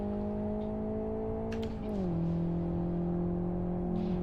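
An F1 car races in the Live for Speed driving simulator, its engine a steady, close, high-pitched whine that dips briefly as it shifts, then settles back to a sustained drone.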